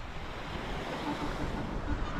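Waves washing onto an empty beach, a continuous, moderately loud surf roar mixed with wind noise, no voices.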